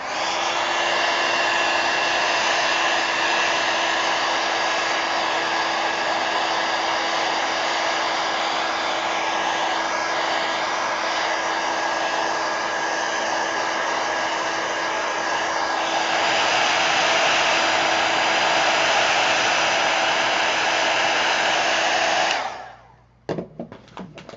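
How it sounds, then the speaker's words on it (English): A heat gun blows steadily while drying watercolor paint, a loud, continuous whooshing roar with a faint whine that runs unbroken for over twenty seconds before switching off near the end; no talking. "I'm going to smack this with a heat gun real quick"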